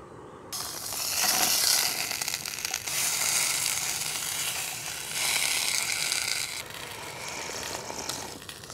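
Sausage frying in its own fat at a campsite, a steady, close crackling sizzle that swells and eases in broad waves over several seconds with no talking.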